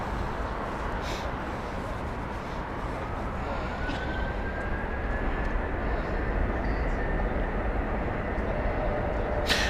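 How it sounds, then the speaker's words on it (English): Jet aircraft taxi on a busy Heathrow Airport taxiway, a broad, continuous engine roar and rumble heard from a distance that slowly swells, with a faint rising whine over it. "Busy taxiway at the moment."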